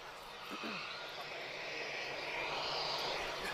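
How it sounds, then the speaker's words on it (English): An Airbus A319-131 with V2522 engines at Lisbon Airport gives a steady, broad jet roar that holds at a fairly even level and swells slightly toward the end, with no talking. "this is an A319-131. And he's got the V2522 series engine, so quite a deeper sound than the ones that we hear from TAP."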